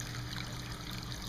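A small Asian-themed indoor tabletop water fountain, with a ficus tree, a little fisherman figure and an ultrasonic fogging effect, trickles in a soft, steady, continuous wash heard up close with no talking.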